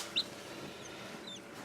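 Newly hatched black Ayam Cemani chicks give a single sharp peep and then faint chirps over a low, quiet background.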